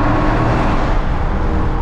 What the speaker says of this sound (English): Let's get a sound of this exhaust here coming through the underpass